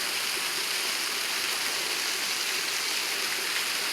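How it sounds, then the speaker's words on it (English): A waterfall at Pikes Peak above the Mississippi River pours in a dense, unbroken rushing hiss, steady and fairly close, with no other sounds or voices. "I'm at the falls"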